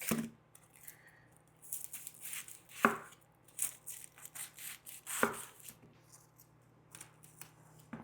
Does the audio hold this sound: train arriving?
no